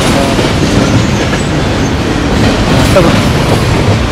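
Steady rumbling of a train with rolling wheels and clatter, loud and continuous, as heard from a busy railway platform.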